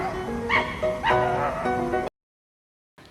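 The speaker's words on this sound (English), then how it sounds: "This is a fox." A fox barking, two or three short yipping, whining barks close by in quick succession, then silence.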